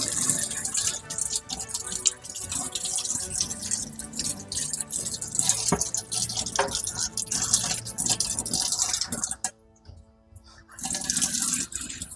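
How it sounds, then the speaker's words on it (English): Running tap water splashes over a wooden board during a quick rinse in a sink, a steady close hiss of flow that stops briefly near the end before resuming. "A quick rinse off because it is wood"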